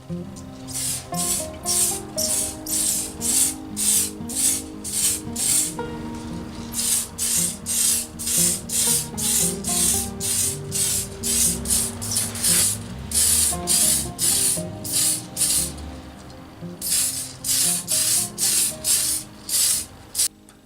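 An aerosol can sprays white backing paint inside a clear Lexan shell for a Tamiya Hotshot RC car, coming in repeated short bursts of close, loud hiss separated by brief pauses, with no talking.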